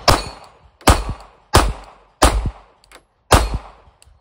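Five loud 9mm pistol shots spaced about a second apart, each followed by the bright metallic ring of a steel target at an outdoor range, with no talking.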